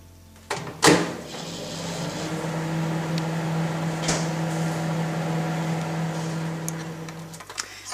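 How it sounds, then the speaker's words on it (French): A microwave oven hums steadily for several seconds as it heats and melts soap, preceded by a door clunk and button beeps, with a few small clicks near the end. "Il ne reste plus qu'à le passer au micro-ondes tout à l'heure, bien surveiller qu'il ne bout pas"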